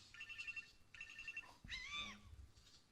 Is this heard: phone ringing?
yes